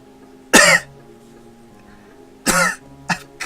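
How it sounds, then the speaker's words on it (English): A character in a visual novel coughs in three harsh bursts, two fuller hacks about two seconds apart followed by a shorter one, close and loud against near silence. "I'm coughing up blood."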